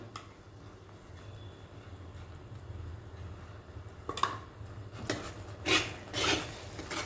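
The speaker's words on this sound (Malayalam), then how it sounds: "അതുവരെ നമുക്കൊന്ന് ഇളക്കി കൊടുക്കാം" Jackfruit halva is stirred in ghee in an uruli, a quiet background hiss broken in the second half by several louder scraping strokes of the spoon against the vessel.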